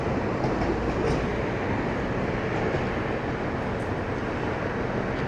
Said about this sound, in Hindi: ये आ गई है भाई ट्रेन।